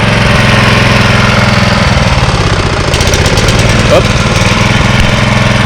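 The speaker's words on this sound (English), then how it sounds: "It's got a nice idle to it, actually." A lawn mower engine idles loudly and steadily with a continuous low rumble, while a voice briefly exclaims over it.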